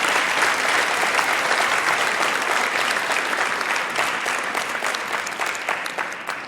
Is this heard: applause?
yes